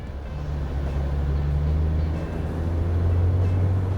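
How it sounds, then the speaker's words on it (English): A Chevy 1500 pickup with the 3.0L Duramax LZ0 inline-six diesel pulls hard under acceleration, giving a loud, steady low rumble that holds for the whole stretch with no talking. "you can just hear that inline 6 roaring."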